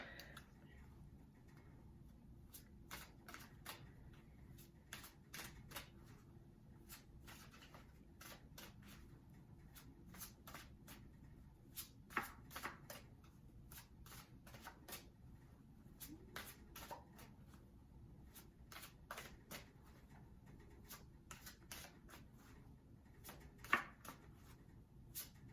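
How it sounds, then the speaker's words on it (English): Tarot cards are shuffled and drawn, making many quick, crisp riffling and flicking bursts at irregular intervals, close and fairly quiet over a low room hum, with no clear talk. "Let's pull a few more cards"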